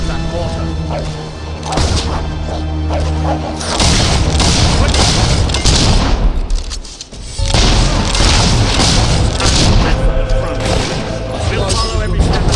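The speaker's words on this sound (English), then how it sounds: "We need to take care of that mortar." Mortar shelling explosions boom loudly and repeatedly across a war-torn battlefield in Fable 3, heavy crashing impacts layered over a dense combat roar, with a brief lull near the middle before the barrage resumes; voices talk over it.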